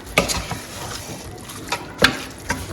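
A spoon stirs pork pepper soup with ginger, garlic, salt and stock in a pot. A few sharp clinks against the pot's side come through over soft liquid sloshing, close and fairly quiet.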